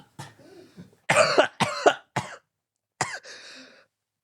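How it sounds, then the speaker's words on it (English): A man coughs repeatedly after choking on water during a podcast recording: a few short, harsh, close bursts with brief throat sounds and pauses in between. "He's coughing."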